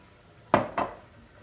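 Two quick clinks of a spoon against a pot while stirring oil-based lentil soup, sharp and close, a short pause between them, otherwise quiet.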